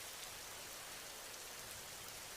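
Steady rain falls across the whole stretch, a dense, even hiss of drops on surfaces with no voices, continuous and fairly close in a cartoon scene with a bird sheltering from the downpour.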